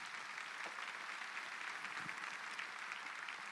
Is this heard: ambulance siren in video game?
no